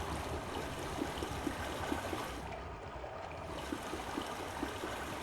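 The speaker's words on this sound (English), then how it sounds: "So it's pumping in water from the ocean down here." A water pump in the game Myst draws in ocean water, making a steady, rushing, trickling wash that stays constant throughout with no voices.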